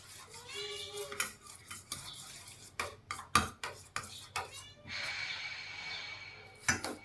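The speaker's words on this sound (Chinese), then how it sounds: "我們拿這個勺子呢把它攪拌均勻。" A spoon stirs Chaozhou steamed dumpling filling in a bowl, giving irregular close clinks and scrapes against the dish, with a few louder knocks and a brief breathy rustle between them.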